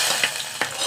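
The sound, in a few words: hot tempering added to sambar, sizzling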